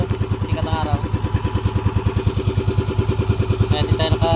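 A nearby motorcycle engine runs at a steady idle with an even, rapid thumping beat, while brief rattles and a faint voice sit over the engine.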